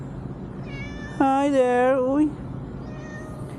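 A single cat gives one clear, drawn-out meow of about a second, close and loud over low background murmur.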